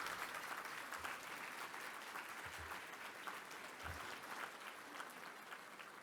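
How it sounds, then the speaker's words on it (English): Audience applause at the 2024 World Citizen Award Dinner, a steady, fairly faint patter of many hands clapping throughout, with no talk over it. "give a round of applause to all of you that I mentioned"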